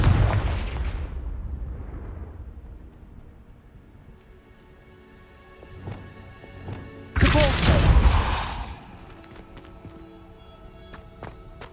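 In Hogwarts Legacy, a Confringo fire spell erupts in a loud, roaring blast lasting about a second, after a fading rumble and some scattered softer thuds.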